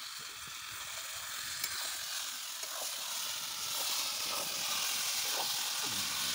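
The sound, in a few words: meat frying with onion, chili, ginger, garlic and spices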